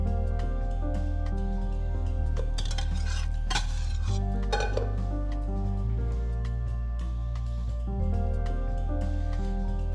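Pasta and cheese get stirred together with melted butter in soft, wet squishing strokes, partly masked by steady tonal background music.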